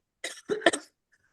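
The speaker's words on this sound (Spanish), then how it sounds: "necesito toser" Two or three quick, raspy coughs close by, clustered within about a second, followed by quiet.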